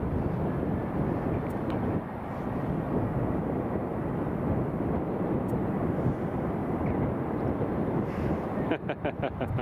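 A Ryanair airliner on approach, heard as a low, steady rumble mixed with gusty wind noise on the microphone throughout.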